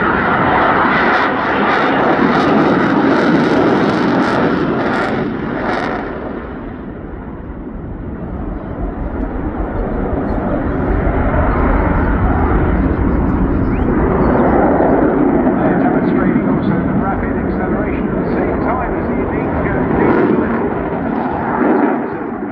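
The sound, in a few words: jet aircraft engine with afterburners at an air show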